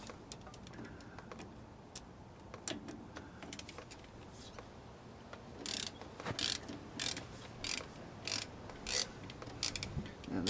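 A wrench cracks loose a brake line banjo fitting on a lifted Ford Bronco, giving faint metallic clicks and ratcheting taps that grow into louder, irregular bursts of turning.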